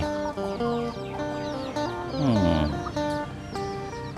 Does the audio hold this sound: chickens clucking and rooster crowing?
yes